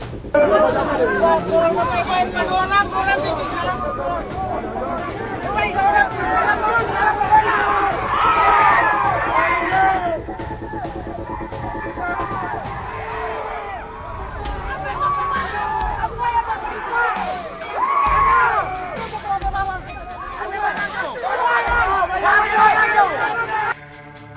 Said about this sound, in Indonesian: Mereka berteriak menuntut pertanggungjawaban atas ucapan Resbob yang dianggap menghina suku Sunda dan supporter Persib Bandung.